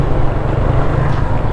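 A motorboat engine drones on the sea off Monte Maria, a steady low hum blended with wind buffeting the microphone.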